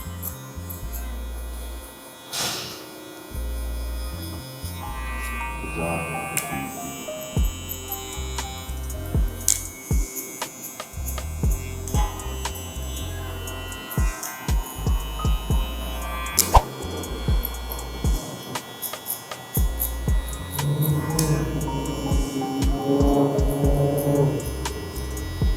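Electric hair clippers cutting a low taper, a steady close buzzing hum that runs throughout with brief interruptions and clicks as the blade moves through hair.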